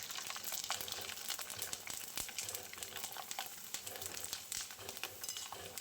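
Sabudana and potato gathiya fry in plenty of hot oil, a dense, close, continuous sizzle and bubbling with scattered sharp crackles and no voices.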